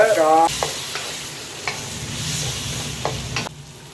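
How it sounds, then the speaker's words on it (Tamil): Steady close sizzling of onions frying in a pan, with a spoon scraping and stirring at intervals; a short tone at the start. "வெங்காயம் சிறிதளவு பொன்னிறம் வரும் வரை தாளிக்கவும்"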